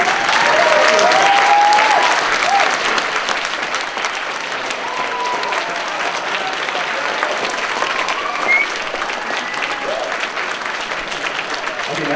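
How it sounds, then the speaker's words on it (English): An audience at a Bronycon convention panel applauds a cosplay with sustained, dense clapping and some cheering voices, loudest at the start and then holding steady for about twelve seconds. "this cosplay needs a round of applause"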